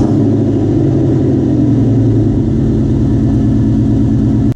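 Ford Mustang with a Bassani aftermarket exhaust revving hard, a loud, continuous deep engine roar with steady rumbling pulses that holds at high RPM for several seconds, alone with no talking.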